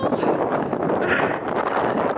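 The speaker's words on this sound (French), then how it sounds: "Ah le vent!" Wind gusting across the microphone on a mountain hike in Romania, a steady broadband roar with rising and falling buffets throughout, close and fairly loud.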